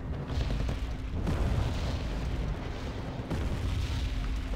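An artillery salvo lands in a strategy game, a steady barrage of dull booms and rumbling impacts rolling through the whole stretch at moderate loudness, with no talking over it.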